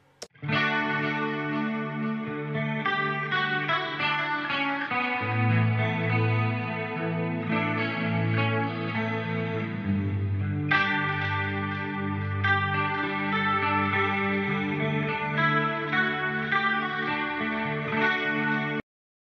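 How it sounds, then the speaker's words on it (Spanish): Electric guitar on a clean amp channel playing chords and picked notes, ringing and sustained with a shimmering, slightly processed tone, continuous and alone for about twenty seconds. "Primero escucha cómo suena la guitarra en canal limpio."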